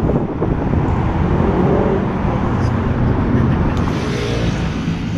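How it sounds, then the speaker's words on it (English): A steady stream of classic cars rolls along Woodward Avenue in a cruise-style procession, making continuous loud, close road and engine noise with some wind buffeting and no clear gaps between vehicles. "Just been one car right after another."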